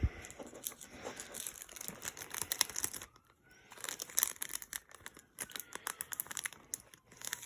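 Torn card packaging crinkles and rustles as it is handled, with soft tearing and crumpling sounds in quiet bursts and a brief pause midway.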